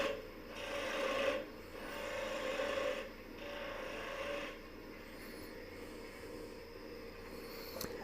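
A wood lathe turns a coffee scoop's sphere part, the workpiece hot-glued into a waste block; steady rasping cuts come in several bursts of a second or two, separated by quieter spinning hum.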